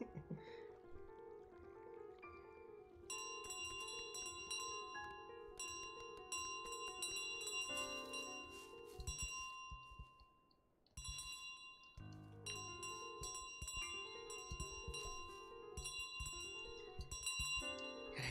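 Bell ringing in Untitled Goose Game, bright chiming tones layered over steady, continuous game music, with a brief lull near the middle.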